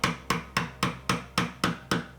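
Chisel struck with a mallet chops a dovetail baseline in wood for a drawer: eight sharp, evenly spaced knocks about a quarter second apart, close and clear.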